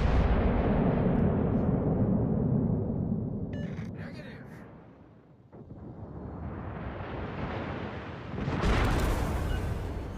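Naval gunfire from the battleship Hizen fighting the cruiser Brisbane in the mobile game World of Warships Legends: deep booming blasts with long rumbling tails, one swelling again near the end, with a brief voice in between.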